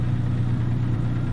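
A Western Star 49X truck with an X12 engine in American Truck Simulator, a steady low diesel drone holding constant revs, loud and continuous with no talk.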